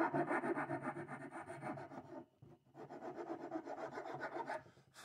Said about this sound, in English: here I am making some final adjustments with the file and fitting it into place